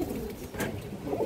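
A female pigeon, a high-quality Khorgola-type bird, gives a short, soft coo, close and fairly quiet, with faint background noise and no talk.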